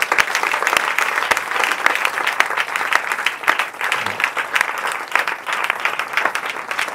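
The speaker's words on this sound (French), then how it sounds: "Est-ce qu'on peut se lever, on acclame le Seigneur?" A church congregation at a consecration service applauding the Lord: loud, sustained clapping from a large crowd, fairly close and continuous, with a few voices faintly mixed in.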